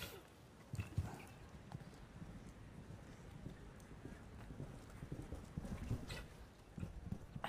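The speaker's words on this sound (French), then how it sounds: "Un cheval saute très haut." Horse hooves clop and thud on the arena footing at the Aix-la-Chapelle 2016 show jumping event, an uneven run of soft, close strikes over a low crowd and ambient hum.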